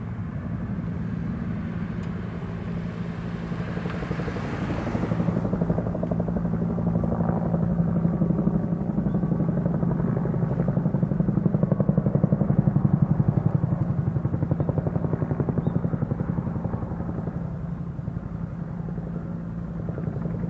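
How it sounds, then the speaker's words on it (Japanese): Steady rotor chop of several helicopters overhead fighting a mountain wildfire on Etajima, Japan, a throbbing drone that swells louder midway and then eases slightly. "江田島市の打防山にヘリコプターが何機も集まっております。"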